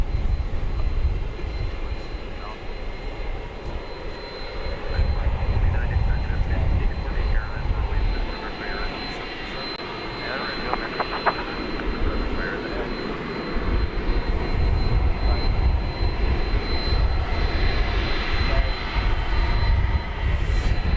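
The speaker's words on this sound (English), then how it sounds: "a 24-year-old 777 coming in from Venice after a 10-hour and 47-minute flight" Boeing 777 jet airliner, 24 years old, at DFW Airport after a long-haul flight, its engines giving a steady broadband roar throughout, moderately loud and continuous with faint background noise.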